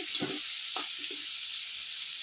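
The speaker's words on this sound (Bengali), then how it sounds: "ওই ডিম ভাজার তেলটার মধ্যে আলুটা দিয়ে দিয়েছি" Potatoes fry in oil left over from frying eggs, a soft hiss of sizzling with a few brief stirring scrapes, low and close in a quiet home kitchen.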